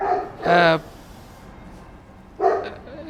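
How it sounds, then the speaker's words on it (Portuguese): A dog barks twice, loud and near, with a pause between the two sharp barks and a quiet gap in between. "vou esperar ele parar de latir um pouquinho"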